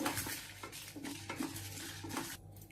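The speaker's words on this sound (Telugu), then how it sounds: "ఇలా కలుపుకుంటూ వేయించుకోవాలి." Lentils and dried red chillies stir-roasted in a pan, a continuous dry scraping and rattling of the spoon with a faint sizzle underneath, close but quiet, no speech.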